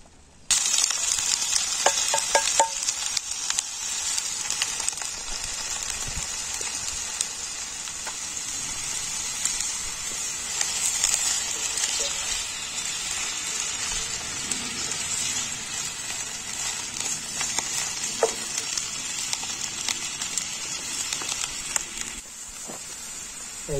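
Mushrooms fry in a pan with a steady, loud hiss and sizzle throughout, crackling softly and easing slightly near the end.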